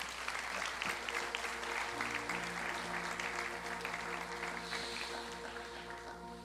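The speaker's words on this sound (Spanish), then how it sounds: "Dele un aplauso al Señor, que Él se lo merece" A church congregation applauds during a worship service, a soft wash of clapping heard over sustained keyboard or organ chords that continue underneath.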